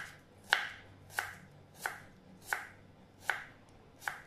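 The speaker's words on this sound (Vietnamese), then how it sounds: "Bây giờ mình sẽ xắt củ hành trước nha" A knife chops through an onion on a cutting board while a Vietnamese dish is prepared, six crisp, evenly spaced cuts sounding close and clear with no talk over them.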